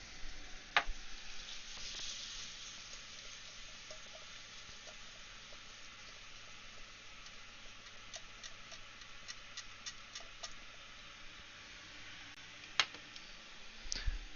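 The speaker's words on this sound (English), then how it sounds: "So while that is frying," Food sizzles faintly in a pan with smoked paprika and red bell pepper, a steady quiet frying hiss dotted with small pops and ticks, plus a couple of sharper clicks.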